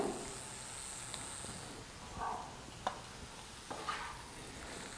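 Chilli paneer coated in sauces is stirred in a hot pan, a soft steady sizzle running underneath with a few quiet scrapes and taps of the spoon, faint and close.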